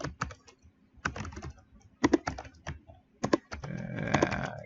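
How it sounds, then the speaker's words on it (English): Rapid bursts of typing on a computer keyboard, close and clear, coming in short clusters of clicking keystrokes separated by brief pauses, with a denser flurry of keys near the end. "type in Epic Games"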